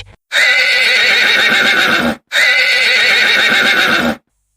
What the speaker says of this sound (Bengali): ওই যে গাধাতে চিল্লাইতাছে খাবারের জন্য